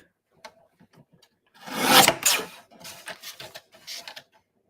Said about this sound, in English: I trim those edges. Hopefully I did an okay job trimming.